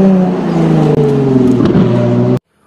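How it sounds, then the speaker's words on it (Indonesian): A toy Lamborghini racing car gives off a loud, whining engine-rev sound that rises in pitch for about two seconds, then cuts off abruptly into silence. "Widih, ada mobil balap Lamborghini."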